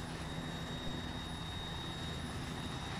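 A helicopter in the ARMA military video game approaches as a steady, loud, continuous engine and rotor roar with faint high whine, unbroken throughout and without talk.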